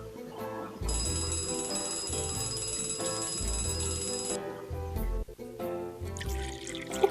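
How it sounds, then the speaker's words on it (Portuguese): A bell-like alarm clock rings steadily for about three and a half seconds, bright and sustained over cartoon background music and light trickling water, then stops. "todos os dias eles acordavam com o barulho do despertador"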